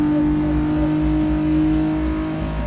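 A Renault Clio V6 engine in a GT Sport racing game holds a steady, loud, droning tone, pinned near the rev limiter without letup.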